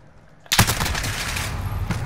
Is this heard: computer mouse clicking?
no